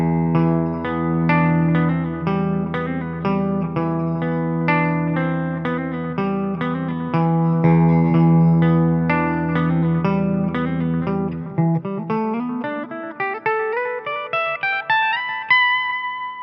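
An electric guitar plays a riff at half speed, steady repeating picked notes over a low drone that give way to a rising run of higher notes, played alone with effects.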